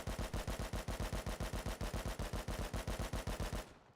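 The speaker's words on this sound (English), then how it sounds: "So the AK does sound a bit different." Rapid automatic fire from an AK rifle in the video game Rust, a loud, steady stream of evenly spaced shots lasting several seconds before cutting off abruptly.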